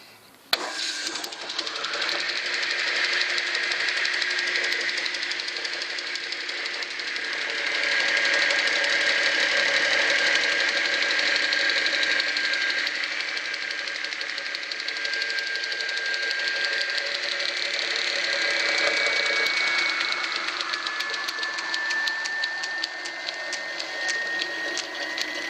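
A salvaged table circular saw with a belt drive runs steadily on its motor after being rewired, with a loud sustained whine and hum and a rising whir near the end.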